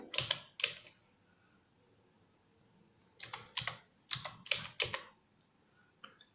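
Keys tapped on a computer keyboard while entering text into a word processor table, in two bursts of quick clicks separated by a pause of near silence, close and fairly quiet.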